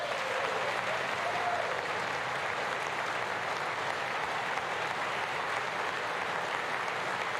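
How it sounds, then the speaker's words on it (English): Sustained applause from a large audience at the 2020 State of the Union address, a steady, dense wash of clapping holding even and fairly loud throughout with no voices over it. "It's just really milquetoast applause lines."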